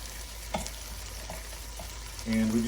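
Tomatoes, ketchup and water being stirred together in a frying pan, giving a soft, steady sizzle with a few faint scraping stirs, a louder burst of bubbling near the end.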